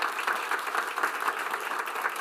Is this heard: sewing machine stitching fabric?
no